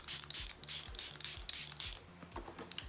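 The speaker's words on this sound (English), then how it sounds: "I'm gonna go ahead and use my Catrice, the Prime and Fine Dewy Glow Fixing Spray." Catrice Prime and Fine Dewy Glow Fixing Spray mists onto a face in a series of about eight short hissing bursts, close and quiet, each paired with a faint pump click.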